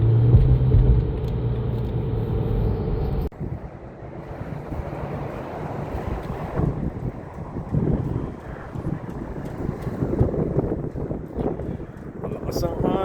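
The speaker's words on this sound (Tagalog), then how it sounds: "Malakas ang hangin." Strong wind buffeting a microphone at a roadside rest area near a San Francisco bypass, a continuous roaring rumble with passing traffic noise, loud and steady throughout.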